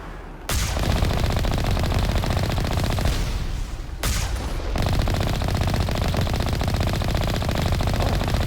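Turret gunfire from the Mass Effect video game rattles in long, dense automatic bursts, loud and relentless, with short pauses near the start and midway.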